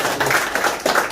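Applause at a Korean election campaign office opening ceremony, a brief burst of crowd clapping that swells and dips in a dense patter over roughly one second.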